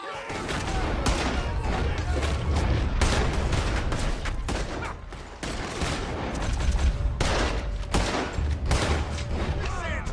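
Gunfire in Red Dead Redemption 2, a sustained shootout of rapid overlapping shots with heavy low booms, loud and nearly continuous, with shouted voices mixed in.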